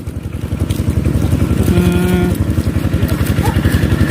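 Farm tractor engine running close by, a loud, steady rhythmic chugging that continues throughout with a brief tonal whine in the middle.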